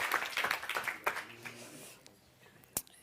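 Live audience applause at an evening talk, a brief burst of hand clapping that quickly thins out, followed by a faint voice and a sharp thump.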